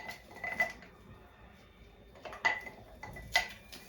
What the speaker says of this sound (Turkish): Şöyle karıştırıyoruz karışımımızı.